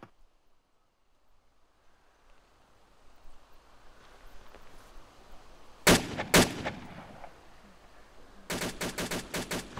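Gunfire in ArmA 2 Operation Arrowhead at night: two sharp, loud single shots after a long quiet stretch, then a rapid burst of about six evenly spaced rounds close by.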